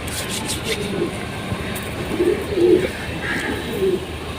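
Rampuri pigeon cooing close by, several soft, low, throaty coos spaced across a few seconds, with people talking in the background.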